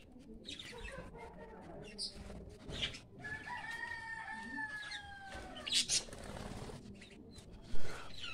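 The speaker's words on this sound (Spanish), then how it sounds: "Por ahí están los pajaritos" Parakeets and guinea fowl call at a home yard, several chirps and harsher squawks scattered over a soft outdoor background, moderately distant, with one louder call near the end.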